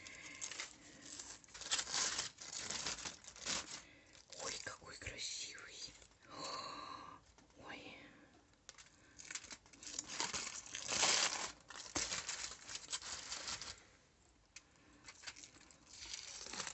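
Plastic film wrapping crinkles and rustles in irregular bursts as a baked pork roll, still hot from the oven, is unwrapped, while someone talks softly, almost whispering, close by.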